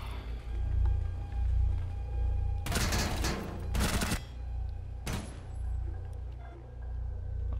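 Rapid gunfire in Rainbow Six Siege comes in three loud bursts, the longest first and a shorter one after a pause, over a low steady game rumble.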